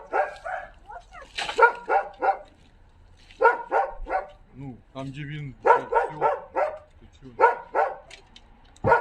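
A dog barks repeatedly in short bursts, loud and close, with whimpers between; a person speaks briefly amid the barking.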